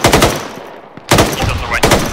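Automatic gunfire in the ArmA 3 SOG military game, with loud, rapid bursts of shots: one burst, a short lull, then two more dense bursts close by.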